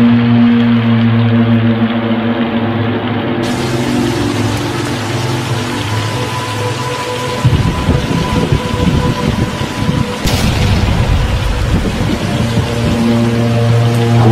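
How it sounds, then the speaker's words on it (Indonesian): Heavy nighttime rain pours over a mountain hamlet in Central Java, Indonesia, a steady dense hiss that lasts throughout with a sustained musical drone beneath; thunder is not distinct. "Hujan deras mengguyur dusun itu bagaikan ditumpahkan dari langit, diiringi badai petir tanpa henti."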